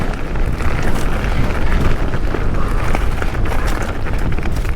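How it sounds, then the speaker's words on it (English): Loud, steady wind buffeting the microphone while mountain biking a long downhill descent at Glenlivet, a continuous roaring rush with no pauses. "Now I've got the wind behind me"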